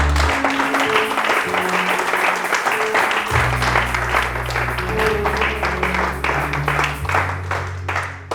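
A church congregation applauds the Lord, with steady dense clapping throughout, backed by sustained organ or keyboard tones and a few voices calling out.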